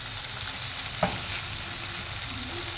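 Spices sizzle steadily in a pan for paneer butter masala, a continuous close frying hiss with a single soft stir or clink near the middle, no voices.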